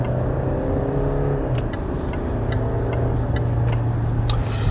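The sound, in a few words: Land Rover Discovery Sport SUV pulling away on test drive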